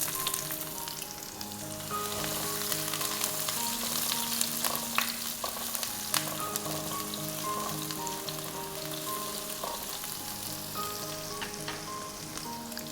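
Shallots fry in a pan of hot oil for a prawn and cabbage thoran, giving a dense, steady close-up sizzle with occasional crackles that lasts throughout, over faint background music.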